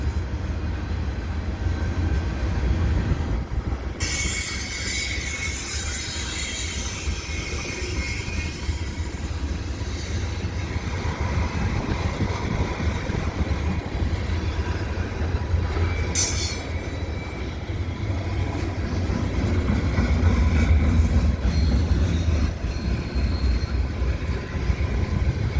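A CN freight train rolls steadily through the Dorval ramps on a mild, windy December day, its low rumble and rail clatter continuous and close throughout, with brief metallic squeals of wheels on rails.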